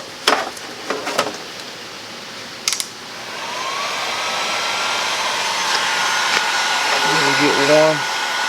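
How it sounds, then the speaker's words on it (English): A heat gun blows hot air to soften the rubber around a 1964 VW door window, a steady broadband rush that follows a few sharp handling clicks and ends with a short stretch of speech. "I'm going to take Mr. Heat Gun here."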